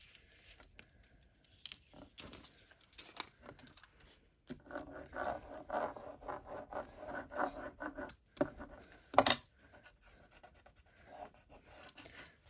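Scissors cutting a faux metal sheet of foil-like craft material into strips, giving close crinkly rustling and snipping sounds in uneven bursts, with one sharper crackle.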